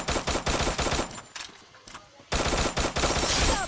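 Rapid bursts of automatic gunfire from a shooter video game, loud and close: a fast volley, a brief quieter gap with a few scattered shots, then another dense, sustained burst.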